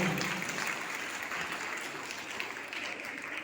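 An audience at a school event gives a teacher a welcoming round of applause: dense, steady clapping that fills the room and fades slightly toward the end.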